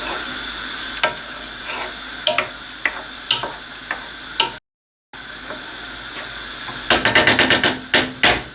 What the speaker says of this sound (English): So every time I stir the chilli, I tend to go back and just stir the rice